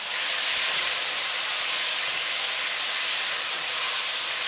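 Pork and marinade sizzling and simmering in a pot while being stirred, a loud continuous hissing steam sound, even and unbroken, with no voices.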